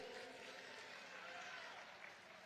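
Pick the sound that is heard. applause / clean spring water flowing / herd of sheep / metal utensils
applause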